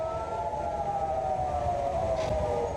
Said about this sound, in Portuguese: As sirenes soaram diversas vezes neste sábado de manhã em Jerusalém